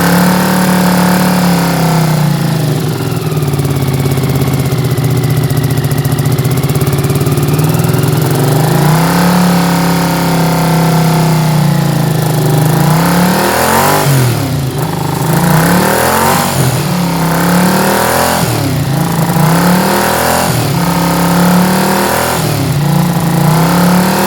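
A Honda CX500 motorcycle engine runs with lagging wrapped in its exhaust, a loud close drone that idles steadily before a series of rhythmic revs blip up and down in the second half.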